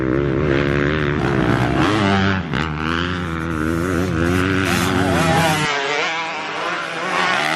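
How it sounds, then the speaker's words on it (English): A pack of motocross bikes, a mix of four-stroke and two-stroke engines, screams past nearby, loud and continuous, with revs rising and falling before the roar cuts back sharply near the end. "From the noise, it's a distinctive mix of 4 strokes and 2 strokes"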